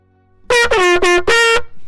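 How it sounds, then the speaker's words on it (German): A loud, blaring air horn gives four close, sustained blasts in quick succession, followed by a shorter fifth toot, with no voices over it. "Warte, Tröte hier, Tröte da."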